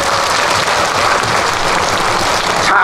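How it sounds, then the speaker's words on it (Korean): Loud, close applause from a festival crowd at an outdoor pumba performance on a main stage, thick continuous clapping filling the short stretch without a break. "박수 한번 크게 주세요"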